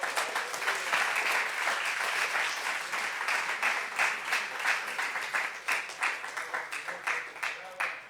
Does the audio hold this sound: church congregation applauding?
yes